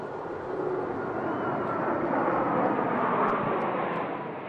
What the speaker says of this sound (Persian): در آمریکا این پرواز نمایشی هواپیماهای نظامی کشور بر فراز واشنگتن